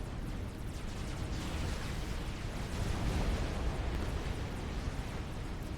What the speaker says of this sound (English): we can see the shots being fired by anKcat